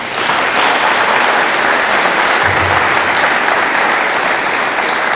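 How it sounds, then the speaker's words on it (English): An audience at an Armed Forces Commitment Day event claps loudly and steadily for several seconds, a dense wash of applause with no voices over it. "So round of applause for them."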